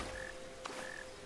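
Frog croaking in the video game Black Myth: Wukong, two short tonal croaks separated by a brief pop, steady over a humming game background with no talk.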